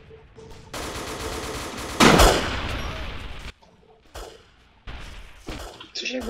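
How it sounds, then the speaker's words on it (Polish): Gunfire behind the player in Iron Front: Liberation 1944 during an Omaha Beach landing mission, bursts of loud shots and a heavy blast, broken by short pauses, with voices talking in between. "Coś jakby tu z tyłu strzelał."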